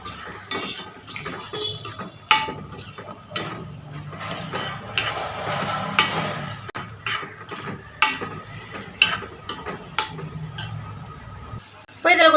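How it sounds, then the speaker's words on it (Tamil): Egg masala being sautéed in a pan with ground spice paste and garam masala, a steady soft sizzle broken by frequent sharp metal clinks and scrapes of a spoon stirring against the pan. "மசாலா பச்சை வாசனை போகிற வரைக்கும் கொஞ்சம் நல்லா வதக்கி விட்டுக்கலாம்."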